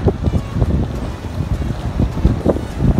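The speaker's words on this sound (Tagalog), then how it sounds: "dahil sa sobrang hangin" Strong wind buffets the microphone during a bike ride with a constant low rumble and gusty roar, no voices.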